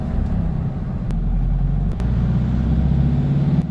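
A Toyota Hi-Ace van with low power and a brake fault drives on a test run, its engine rumbling steadily and loud from inside the cab, with a couple of brief clicks or knocks.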